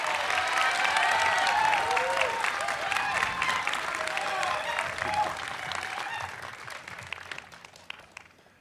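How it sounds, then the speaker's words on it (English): A commencement ceremony crowd at Westminster University applauds steadily in a dense wash of clapping with some cheering and a few voices, then slowly fades to a few last scattered claps. "let's give another round of applause for Evan."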